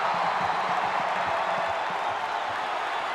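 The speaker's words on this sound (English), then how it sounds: "You think this crowd is crazy right now?" Steady roar of a crowd inside Thompson Bowling Arena during a Kentucky vs Tennessee college basketball game, loud and continuous throughout with no clear breaks.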